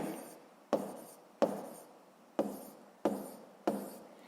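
Pen writing on paper, five short scratchy strokes at uneven intervals, close and quiet, each stroke fading out before the next.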